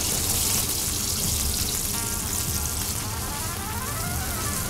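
Sliced onion goes into butter foaming in a pan for onion soup, producing a dense, loud, steady sizzle and crackle close up, with no talking.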